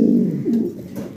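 A male Andalusian pigeon coos close by in a steady, low, throaty run of repeated coos that keeps going without a break.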